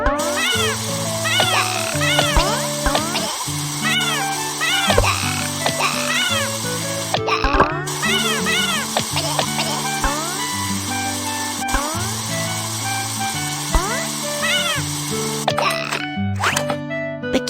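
A stray kitten in an animal rescue video game meows over and over, high and close, in quick repeated cries set against bouncy game music, with a short break in the middle.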